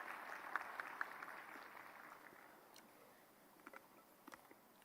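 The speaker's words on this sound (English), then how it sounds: "A big round of applause for her." Audience at a semiconductor industry workshop giving a round of applause, a moderate, diffuse clapping that gradually fades, with a few sharper isolated claps standing out near the end.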